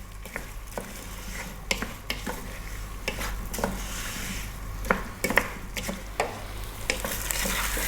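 Vegetables sautéing in a pot over fairly high heat for a vegan cream of vegetable soup, a steady close sizzle with repeated scraping stirs and light knocks of a utensil against the pot.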